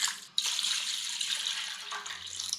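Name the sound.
water poured into a half hotel pan for brine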